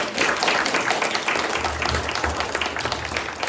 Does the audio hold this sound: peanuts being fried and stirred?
no